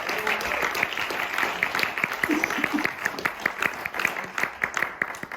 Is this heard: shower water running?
no